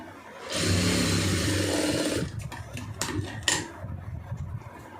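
A sewing machine stitching a fabric border runs in one fast, steady burst for just under two seconds, loud and close, then stops, followed by a few clicks and handling noises.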